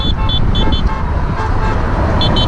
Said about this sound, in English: Thank you so much for honking.